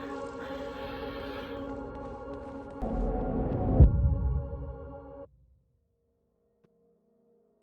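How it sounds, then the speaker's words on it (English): Humming in the video game ECHO, a low steady drone with a swelling throb midway, then abrupt cut to near silence with faint tones. "Look how I can hear the humming"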